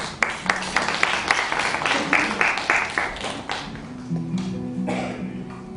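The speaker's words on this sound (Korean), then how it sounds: "박수로 초대하겠습니다" An audience at a literary concert applauds with rhythmic, fairly loud clapping that gradually thins out toward the end as a voice begins to come through.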